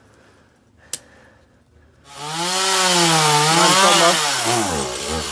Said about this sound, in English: our chainsaw is gonna use cut off that limb there